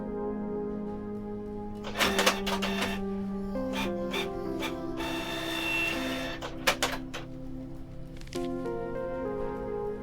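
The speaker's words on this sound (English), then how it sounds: "I'll have these printed" A video game printer in Kathy Rain 2 runs off microfilm pages with a mechanical whir, printing in bursts of sharp clicking and rattling over a steady motorized hum.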